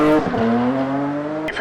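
A race car at the Bagnols Sabrans hill climb, its engine note loud and close and holding a high, steady pitch through a short pass, then shifting near the end.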